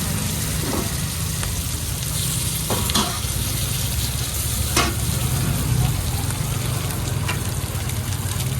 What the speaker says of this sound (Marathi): आपण सुरमे फ्रायची तयारी करतोय